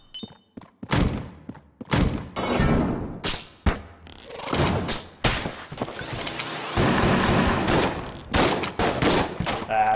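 Rapid video-game gunfire from Enter the Gungeon, dense bursts of shots, thumps and booms layered almost continuously, loud and close with brief gaps between volleys.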